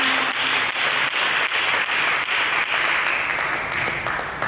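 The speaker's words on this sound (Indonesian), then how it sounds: "Mari kita berikan tepuk tangan bagi Yesus." Congregation clapping in church to honour Jesus, a broad, even wash of applause sustained throughout and slowly easing at the end, with no talk over it.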